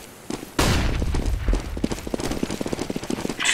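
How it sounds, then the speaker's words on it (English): A flashbang grenade in the game CS:GO goes off with a sudden loud boom after a brief quiet lead-in, followed by a rapid clatter of footsteps and small impacts that continue to the end. "Throwing a flashbang."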